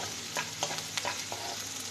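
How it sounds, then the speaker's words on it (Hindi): Cut whole red chillies frying in oil for mash daal, a soft continuous sizzle with a few light stirring taps, quiet and close. "ये जो मैंने काट के रखी हुई थी साबुत मिर्च लाल वाली, ये इसमें मैं डाल दूँगी। ठीक है, और इसको फ्राई करेंगे हम।"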